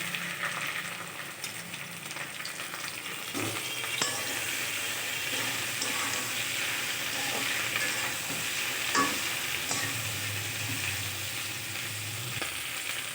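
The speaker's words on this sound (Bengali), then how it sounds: "আর আমি ওই তেলে ভেন্ডিটাও ভেজে নেব" Okra frying in hot oil in a pan, a steady close sizzle with occasional stirring scrapes and light clinks, continuous and without speech.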